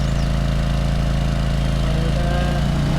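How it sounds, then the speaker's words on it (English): An articulated ride-on lawn mower in Lawn Mowing Simulator holds a loud, steady engine drone with a buzzing low hum that stays even and close from start to finish. "This is a very maneuverable mower. You can see it's an articulated unit"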